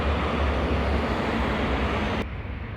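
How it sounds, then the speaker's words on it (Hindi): A tram rolls past on a Budapest street, a steady broad rumble and rush held loud and close for a couple of seconds before it cuts off abruptly. "ये ट्राम जा रही है।"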